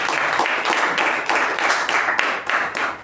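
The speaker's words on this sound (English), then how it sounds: "let's give a round of applause to K Prabhakara." Steady applause from a group at a Toastmasters meeting, a continuous wash of many hands clapping at moderate volume throughout.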